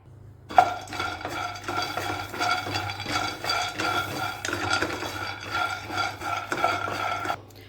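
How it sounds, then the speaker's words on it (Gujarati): Peanuts are stirred and roasted in a metal pan, a continuous dry rattling and scraping of nuts against the pan with rhythmic utensil strokes, close and moderately loud, with no one talking. "હવે જે 1 વાટકી આપણે સિંગદાણા લીધા છે એને પણ એવી જ રીતે આપણે શેકી લેવાના છે"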